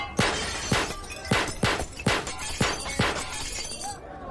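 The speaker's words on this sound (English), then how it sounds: "Every plate smashed to smithereens." Ceramic plates shatter one after another at a fairground shooting gallery: about eight sharp, loud smashes land at a quick, steady pace, each followed by a brief scatter of breaking pieces.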